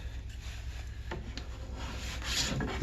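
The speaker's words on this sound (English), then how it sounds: "And you want to scrape it right down to the base." Wax is scraped off the base of a Madshus skate ski, a faint, steady rasping rub in continuous close strokes with a constant low hum behind it.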